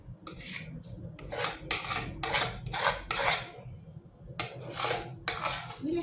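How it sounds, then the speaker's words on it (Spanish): A spoon scrapes leftover yellow cream cheese mixture from a dish into a bowl in repeated rough, raspy strokes, close and fairly loud, with brief pauses between scrapes and no talking. "con la misma cuchara que usamos para ponerle el casancrem y los condimentos, vamos raspando todo lo que quedó en la fuente"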